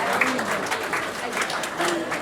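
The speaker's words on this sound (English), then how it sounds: "Let's give a round of applause everyone." Audience applause at a youth dialogue event, a brief burst of steady clapping from a crowd that carries on evenly for a couple of seconds, with a voice faintly audible through it.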